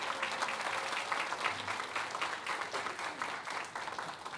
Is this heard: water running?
no